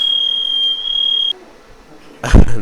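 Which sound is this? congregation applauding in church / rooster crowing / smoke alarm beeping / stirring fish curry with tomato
smoke alarm beeping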